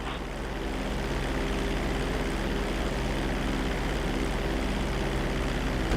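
Airplane touching down on a runway in a flight video game, a steady loud low engine drone with dense rumble holding constant throughout, no speech.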